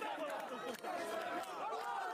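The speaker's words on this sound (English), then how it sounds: "people gathering in the streets, dancing, cheering, and thanking God" Crowd out in the streets of Gaza celebrating a ceasefire, many voices cheering and calling out together in a dense, steady swell that fills the short stretch without pause.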